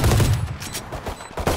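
Rapid gunfire from the video game Valorant, a short dense burst of shots that fills the moment loudly with no talking.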